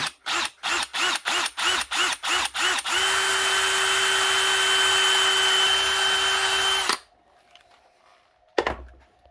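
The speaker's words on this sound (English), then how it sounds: "I'm drilling the hole" A power drill bores a hole through a plastic engine part repaired with high-heat JB Weld epoxy putty: about eight short, rhythmic bursts, then one long steady whine for several seconds that cuts off, leaving a brief clatter near the end.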